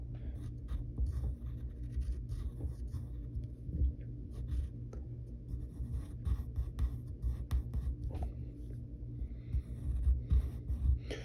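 A cartoon character is drawn on paper, with soft, continuous pencil scratching in short strokes over a low steady room hum, close and quiet.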